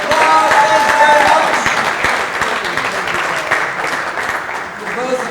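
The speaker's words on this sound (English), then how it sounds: "Give both of them a round of applause." An audience at a Rotary Club installation banquet applauds two magic show volunteers, with loud, dense clapping at first that thins into scattered claps, with voices talking over it.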